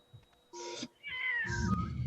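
Two close, clear meows from a cat, the second longer with a falling pitch.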